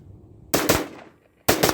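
An AR-15 .223 carbine-length upper fires two loud, close shots about a second apart, each a sharp blast with a short decaying echo between them.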